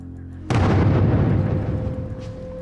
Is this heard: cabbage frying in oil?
no